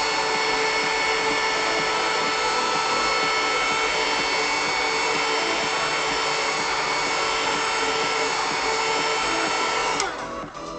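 A heat tool blows steadily over a crayon drawing, a loud continuous whirring hiss that holds evenly for about ten seconds before cutting off near the end.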